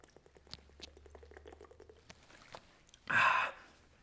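Drinking water is poured once, in a brief, close, loud gush near the end. Soft clinks and handling noises come before it, with quiet room tone underneath.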